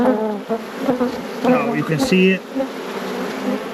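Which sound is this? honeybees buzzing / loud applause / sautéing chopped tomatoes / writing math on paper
honeybees buzzing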